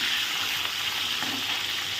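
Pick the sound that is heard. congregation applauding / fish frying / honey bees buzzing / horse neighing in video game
fish frying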